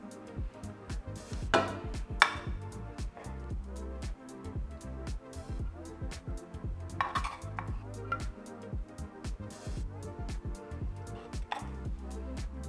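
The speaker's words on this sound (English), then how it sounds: "I'm just going to divide my rice between our 4 containers." Cooked rice being divided among four meal prep lunch tins, with repeated clinks and scrapes of a utensil against containers, irregular taps and knocks at close range, moderately quiet, no talk.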